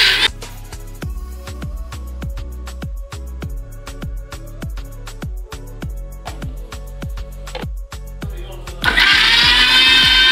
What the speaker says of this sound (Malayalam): മിക്സിലിട്ട് നമ്മുടെ മാങ്ങ നല്ല രീതിയിൽ അടിച്ചെടുത്തിട്ടുണ്ട്.